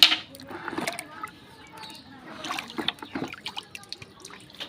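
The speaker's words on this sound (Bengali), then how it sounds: "এখন আমি এই বালতির মধ্যে ইটগুলো চুবিয়ে ইটগুলোকে জীবাণুমুক্ত করব।" Bricks dipped and swished in a bucket of lime water to disinfect a shed, giving uneven trickling, sloshing and dripping splashes at close range.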